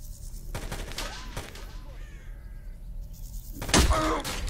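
Gunfire in the S.T.A.L.K.E.R. Call of Chernobyl game: a few scattered shots early on, then a louder burst of fire near the end, over a low ambient game background.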